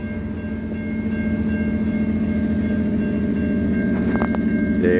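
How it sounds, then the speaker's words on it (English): A fast passenger train in the Latrobe Valley approaches with a loud, steady rumble of wheels on rail that builds over several seconds. A brief horn-like tone sounds near the end as it closes in. "There's a very fast train. Passenger service heading our way."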